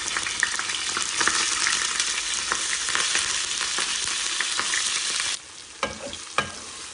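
Frozen chopped onions sizzle and crackle in hot oil with stirring scrapes, loud and steady for about five seconds before dropping to a quieter fry with a few sharp utensil clinks.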